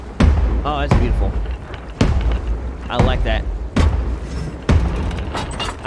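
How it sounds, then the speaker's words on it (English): Fireworks in the pirate video game Sea of Thieves burst in six loud, sharp booms spaced about a second apart, each trailing off into crackle, with a voice speaking briefly between them. "I'm really happy that they added fireworks to Sea of Thieves."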